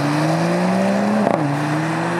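A 2019 Mercedes-AMG CLS 53 4MATIC+ with a turbocharged inline six-cylinder and EQ Boost gives a steady, loud engine and exhaust drone, with a brief sharp blip as the revs dip and then settle back into the hum.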